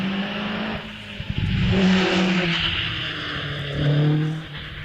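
Nearly 2-litre Chevron B19 race car at a hillclimb, engine revving hard with gear changes and rising and falling pitch as it passes close by, loud and alone.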